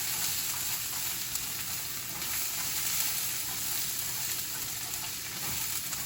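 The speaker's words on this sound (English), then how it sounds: "Then I'm going to be mixing them around." Green beans and chicken sizzle steadily in a frying pan, a continuous close hiss of frying with faint stirring underneath and no talk.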